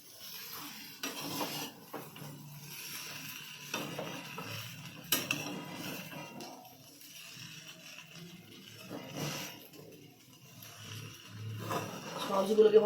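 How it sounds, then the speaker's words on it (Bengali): Sauces being stirred and mixed in a pan, with soft irregular scraping and clinking of utensil against metal under ongoing talk, growing louder toward the end. "ভালো করে মিশিয়ে নিচ্ছি সসগুলোকে"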